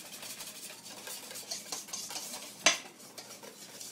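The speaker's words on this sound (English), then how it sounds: "I'm going to take the trusty beater." A manual hand beater whisks Splenda-sweetened muffin batter in a bowl, a steady scraping, swishing stir with one sharper clack of the beaters against the bowl partway through, close and fairly quiet with no talking.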